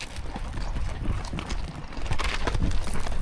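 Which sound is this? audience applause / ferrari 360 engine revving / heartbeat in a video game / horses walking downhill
horses walking downhill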